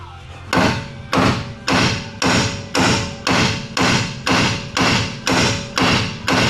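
A hammer strikes metal on a Chrysler car's spindle threads about a dozen times in a steady, even rhythm, each blow loud, close and ringing briefly.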